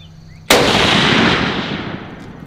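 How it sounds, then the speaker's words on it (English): A rifle fires a single loud, sharp shot at perk bottles in Call of Duty Zombies, and the blast rolls out into a long, fading reverberant tail. "we're going to be shooting some perk bottles"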